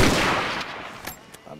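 Sniper rifle shot in the Zulu Wars video game, a single sharp crack that decays into a rolling echo, followed by a couple of faint distant pops.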